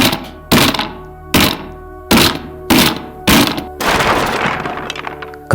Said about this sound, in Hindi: पड़ोसियों ने दरवाजा तोड़ा।